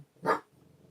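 A dog gives a single short bark nearby, with a faint low rumble trailing after it.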